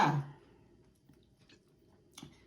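Crayfish being chewed and eaten up close, with a brief louder crunch at the start and then quieter wet chewing and small clicks, with no talking.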